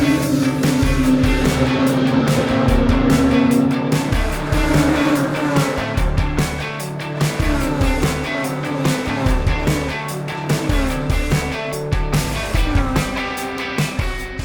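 Several race car engines roar together at close range at a race start on the front stretch, a dense, steady mechanical drone with pitches rising and falling as the cars pull away.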